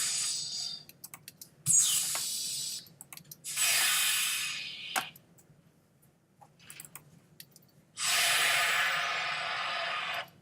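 Bursts of steam hiss, loud and close, come in several separate blasts with quiet gaps and small clicks between them, the final long blast ending the sequence.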